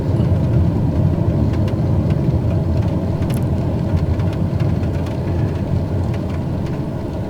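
Captain Sim's C130 turboprop engines in MSFS2020 drone steadily just after takeoff, a loud continuous low roar with a faint fluctuating whir and no voices.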